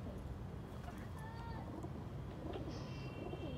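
Pigeons coo softly in the background amid a steady low rumble, with a few faint chirps; no clear talking.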